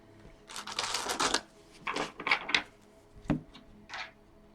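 Tarot cards being shuffled by hand, a burst of dense riffling followed by a few shorter shuffles and a single sharp tap, close and clear with no talking.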